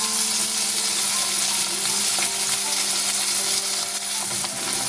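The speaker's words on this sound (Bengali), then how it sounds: "টমেটোটা তেলের মধ্যে একটু নেড়ে চেড়ে নিচ্ছি।" Tomato fries in oil with turmeric, salt and grated ginger while it is stirred, a loud close sizzle with steady hiss and occasional scraping clicks.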